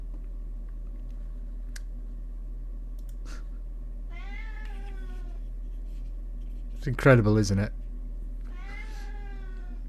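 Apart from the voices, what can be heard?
cat meowing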